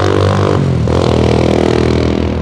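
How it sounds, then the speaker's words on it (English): A loud motorbike passes close by on a street, its engine roar and rising rev filling the clip with a harsh rattling drone that shifts pitch midway, no talk over it. "Loud motorbike."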